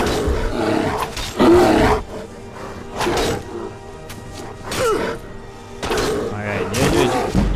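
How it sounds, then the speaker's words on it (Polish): A bear attacks the player in Skyrim Special Edition, giving repeated deep, growling roars with heavy thuds in bursts, loud and close, alternating with short quieter gaps. "Niedźwiedź atakuje na mnie, co nie jest dobrą informacją dla mnie."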